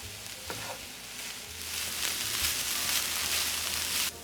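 Cauliflower and Cajun-seasoned ingredients for keto jambalaya sauté in a pan, giving a steady, fairly loud sizzle that swells slightly midway, with a couple of soft knocks of utensils; no one speaks.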